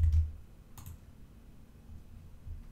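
A computer mouse clicks quietly twice in an otherwise hushed room, with one click at the start and another shortly after.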